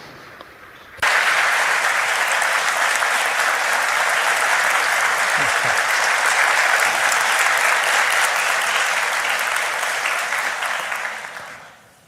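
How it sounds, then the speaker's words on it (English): A conference audience at the Nikkei Forum in Japan breaks into sustained, even applause that welcomes India's External Affairs Minister, the dense clapping holding steady for about ten seconds before tapering off, with no talk over it. "Please welcome the minister with a big round of applause."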